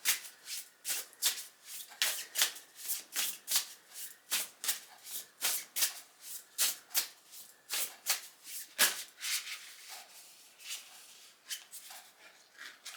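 A deck of reading cards is shuffled by hand in a rapid series of soft, papery riffles and flicks, with about two bursts per second, close and quiet, and no other sound behind them.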